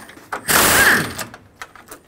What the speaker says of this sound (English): I'm going to loosen the two top intercooler bolts.